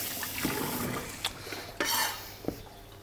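Bean sprouts for a cucumber salad are rinsed in water, with soft splashing and sloshing broken by a few brief clinks of a bowl or utensil, close and moderately loud.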